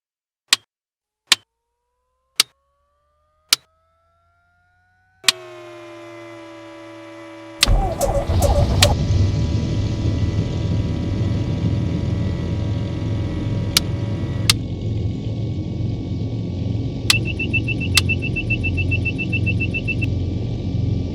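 Engine startup of a PA-28-181 Archer III in X-Plane 11: several sharp clicks and switch sounds and a rising electrical whine, then the piston engine catches and settles into a loud steady drone with occasional clicks.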